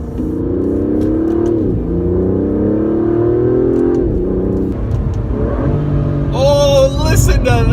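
Aston Martin DB11 engine pulling hard on a road, a loud, close drone that climbs in pitch through repeated gear changes, ending in a higher, rising whine with a voice briefly audible.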